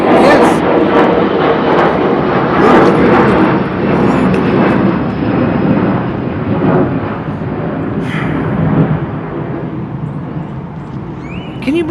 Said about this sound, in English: That thing up in the sky just flew over while I'm making my video.